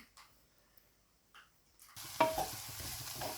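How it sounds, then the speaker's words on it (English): After a near-silent start, chopped onions drop into a pan with ghee and break into a close, crackling sizzle that carries on steadily with a stir. "I put them in a pan with a bit of ghee."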